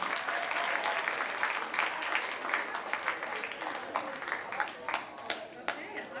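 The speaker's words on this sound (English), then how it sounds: "So maybe just give them a round of applause because that's outstanding" Round of applause at a middle school awards assembly: a crowd of students and parents claps steadily, and the clapping thins into scattered individual claps toward the end.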